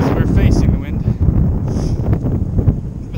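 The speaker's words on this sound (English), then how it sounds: "It's a bit windy now, because we're facing the wind." Strong wind gusts buffet the microphone on an exposed stretch of the Norwegian Arctic coast during a bike ride, a loud continuous low roar with rustling swells and no pause.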